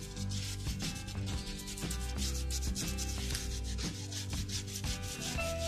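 A paintbrush spreads dark wood-coloured paint across a small wooden piece of a vintage shabby-chic key holder, producing steady, close rubbing strokes in a quick repeating rhythm.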